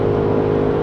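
A Mercedes-AMG GLE 63 4Matic engine drops quickly from near redline, around 6,500 down to 4,500 rpm, giving a steady, loud mechanical drone with strong low harmonics and no voices.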